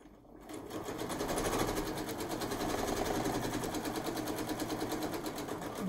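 A sewing machine runs steadily, stitching quilt-as-you-go binding on a barn quilt, a fast even mechanical whir with a rapid needle rhythm that holds close and loud through the whole stretch, with no talk over it.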